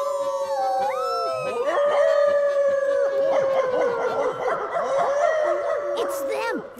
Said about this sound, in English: Let's howl really loud to see if the wolves answer.